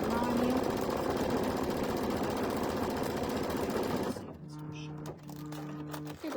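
An embroidery machine stitching out a mug rug runs steadily for about four seconds with dense rhythmic clatter, then stops, leaving faint tones and background sounds.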